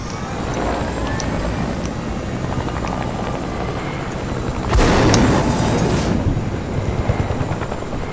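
A helicopter in the video game Fortnite gives a continuous rotor roar that swells with a louder burst partway through, with no talking.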